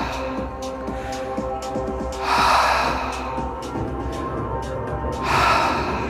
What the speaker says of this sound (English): Wide open, breathing in and breathing out.